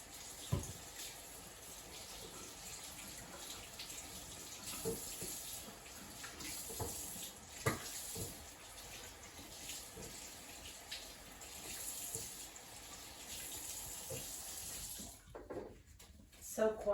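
A kitchen faucet runs steadily as food is rinsed in the sink, with scattered splashes and light clatters close by, and the flow cuts off near the end.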